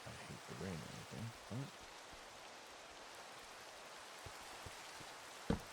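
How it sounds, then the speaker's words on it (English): Steady rain pours in a Minecraft world as a broad, constant hiss throughout, with a few low knocks and thumps of gameplay near the start and a sharp thud near the end. "Not that I hate the rain or anything,"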